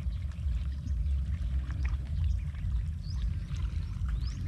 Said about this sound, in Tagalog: Tong tuwa pa yung pato natin sa pagligo.